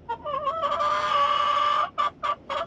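Crested rooster, one of a new backyard flock, giving a loud, close drawn-out clucking call followed by three short clucks, alone with no talk.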